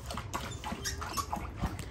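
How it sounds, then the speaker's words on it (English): A dog growls at another dog indoors, low guttural rumbles in short bursts mixed with faint snuffling, fairly quiet and close by, with no one talking. "Navy just growled at Zeus, maybe"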